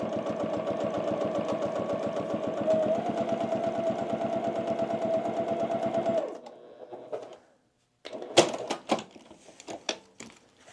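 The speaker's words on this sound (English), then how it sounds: "ride along the inside edge of my presser foot and top stitch" A sewing machine runs steadily, top stitching along a folded fabric edge, a close, even mechanical chatter for about six seconds before it stops, followed by a few scattered handling clicks and rustles.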